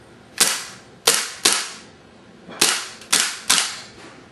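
Six sharp gas blowback shots from a KWC airsoft Desert Eagle made of ABS plastic, fired with the slide release held, loud and close with uneven gaps between cracks.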